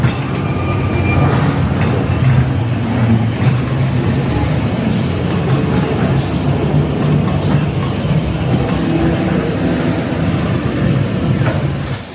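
A classic ghost train ride at Blackpool Pleasure Beach rumbles steadily along its track, with continuous clattering wheels and a dense low roar close by, and no talk.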